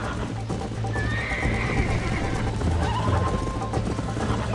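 A horse in the game Red Dead Redemption whinnies loudly over a steady drumming of hooves, the gallop continuing throughout with a second shorter neigh later on.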